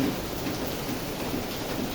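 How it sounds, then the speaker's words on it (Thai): Heavy rain falling steadily before dawn after a night-long downpour, a dense, even hiss throughout with no voices. "ฝนตกหนักตั้งแต่เมื่อคืนแล้วนะครับ"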